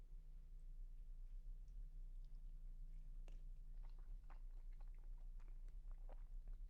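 Someone chews blueberry chipotle barbecue buffalo wings close up, with soft wet bites and mouth clicks over a low steady hum, and no talking.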